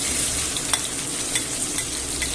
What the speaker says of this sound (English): same oil and butter, I'm going to add the onion